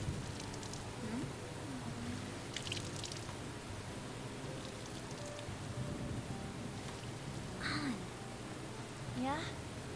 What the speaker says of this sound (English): From heat wave to rain.